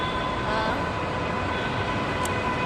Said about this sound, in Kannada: ಇವಾಗ ಮೆಟ್ರೋ ಬರ್ತಾ ಇದೆ.